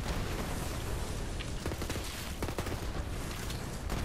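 An SMG in the video game Guns, Love & Tentacles fires rapid sustained bursts, a dense rattling stream of shots over a busy, noisy game backdrop.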